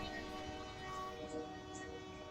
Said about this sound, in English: Very much like that train, here it comes.